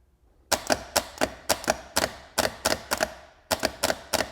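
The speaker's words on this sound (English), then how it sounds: "I'm gonna very carefully just try to test the solenoid here and see if that jams out." Starter solenoid on a Porsche 944, a faulty AutoZone replacement unit, being tested on the bench: a rapid series of sharp, loud metallic clacks in quick bursts, close by with no talking.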